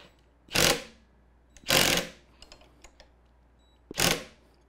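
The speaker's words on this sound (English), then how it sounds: "And I love the hammer drill for this because it makes sure that you get everything nice and tight." Hammer drill tightening the mounting bolts of a Sim Racing Bay OSW sim-racing wheel kit: three separate loud bursts of driven rattling, each lasting about a third of a second, with faint clicks and handling noises in the gaps between them.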